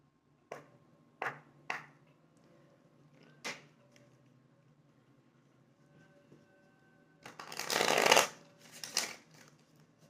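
Oracle cards are shuffled by hand at close range, giving a few soft flicks and taps followed by a brief, louder riffling burst and a couple of final snaps in an otherwise quiet room.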